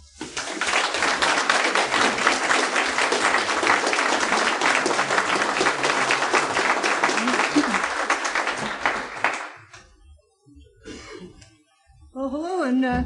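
Audience applause welcoming a speaker at a 2007 talk in Madison, a dense sustained burst of many hands clapping that fades out after about nine seconds, followed by a brief quiet gap and a voice beginning to speak.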